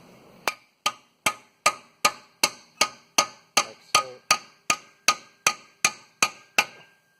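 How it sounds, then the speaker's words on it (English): Sharp metallic hammer strikes on a bolt head, driving a spacer into a Subaru rally coilover, ring out one after another, about sixteen evenly spaced blows, each with a short ringing decay, close and loud. "I put the bolt in and I just hammer the head of the bolt"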